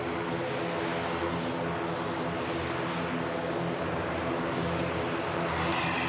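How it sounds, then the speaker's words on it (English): A TUI Boeing 787 Dreamliner airliner on its takeoff roll at Manchester Airport, bound for Montego Bay, gives a continuous heavy engine roar that stays loud and steady throughout, with no talking. "TUI Dreamliner Montego Bay on the takeoff roll"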